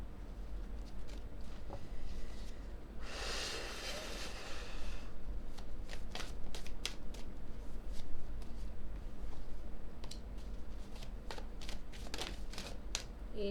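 Tarot cards shuffled by hand during a card reading, a dense riffling burst in the middle followed by scattered soft card slaps and taps, close and moderately quiet with no talking.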